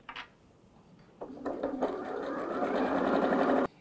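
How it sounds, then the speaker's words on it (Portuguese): Sewing machine stitching satin fabric for a cap, a brief click and then a burst of fast, even needle chatter that speeds up and runs steadily for about two seconds before stopping abruptly, close and loud. "agora pode iniciar a sua costura"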